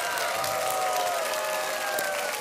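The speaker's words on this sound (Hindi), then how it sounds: "एक बार फिर तालियां" A studio audience on the Hindi quiz show KBC applauds and cheers in a dense, steady roar, with a faint whistle-like tone gliding beneath the clapping.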